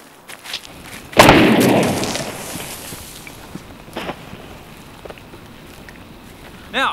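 Gunfire from a firing squad blasts apart energy drink cans, a loud sharp burst with a ringing, debris-filled decay, followed by a couple of fainter pops and a final crack at the end.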